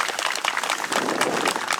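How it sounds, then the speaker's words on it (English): An audience applauds Army veterans at a clock re-dedication ceremony, a steady, fairly close patter of many hands clapping that lasts throughout. "Please acknowledge them with applause"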